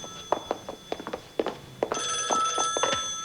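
An old telephone bell rings indoors with a sustained metallic jangle that starts partway through, after a run of short knocks and shuffling movement sounds nearby.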